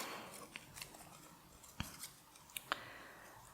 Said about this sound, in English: I'm going to take my Tim Holtz little scissors